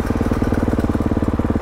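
A 2023 four-stroke motocross bike engine idles close by, a loud, even low thumping pulse repeating rapidly and steadily with no voices over it.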